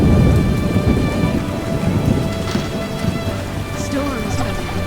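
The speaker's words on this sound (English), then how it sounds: "Storms coming." Steady rain pours throughout a stormy scene in The Witcher, a PC game, with thunder rumbling low beneath it. Ambient music tones sit underneath, and brief chirps come in near the end.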